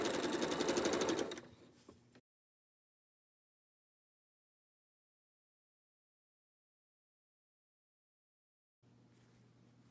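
A sewing machine stitches quilt block pieces in a brief fast whir at close range, then stops into a long silence before faintly starting again at the end.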